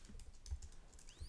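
Faint keystrokes on a computer keyboard while laying out a landing page design, a few soft, scattered taps over quiet room noise.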